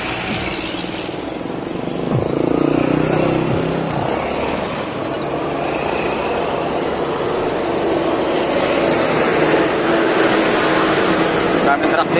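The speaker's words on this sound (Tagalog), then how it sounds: "Daming truck dito." Trucks and other traffic rumble past on a road during a 134 km bike ride to Monte Maria, a steady, fairly loud roar of engines and tyres with passing swells and a faint voice underneath.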